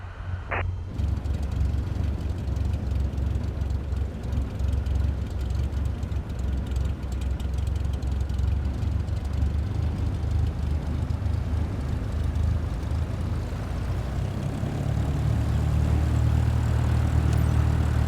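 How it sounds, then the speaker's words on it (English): An aircraft engine in Flight Simulator 2025 drones steadily after a brief click, its low rumble building in strength toward the end as the throttle comes up; no talk. "gently increase throttle to get the aircraft moving"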